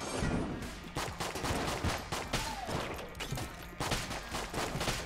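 Crossbow fire in the game Enter the Gungeon, a rapid stream of close, punchy shots with overlapping impacts in a busy gunfight, steady and loud throughout, with no talking.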